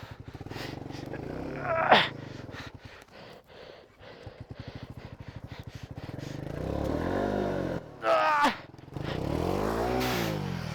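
Motorcycle engine revving and sputtering while stuck in deep snow on Shinku La Pass in Zanskar, with rising and falling throttle bursts and strained idling, plus short voices shouting nearby.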